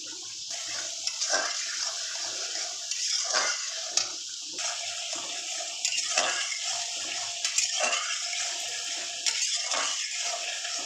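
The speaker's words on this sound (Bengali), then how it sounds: "মশলাটা আমার কষানো হয়ে গেছে তেল ভেসে উঠেছে এবার আমি জল দিয়ে দিলাম" Water pours and splashes into a pan of cooked masala, the oil already risen to the surface, while preparing shorshe ilish. It is a continuous watery rush with occasional clinks of utensils, fairly quiet and with no voices.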